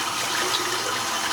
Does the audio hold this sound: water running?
yes